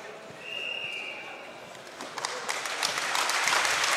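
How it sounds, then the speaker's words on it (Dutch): At a women's volleyball match between VC Sneek and Apollo 8, an injured player leaves the court to applause. The clapping starts moderate and grows steadily louder and denser, with crowd noise and a brief whistle early on. "Gaat onder luid applaus naar de kant."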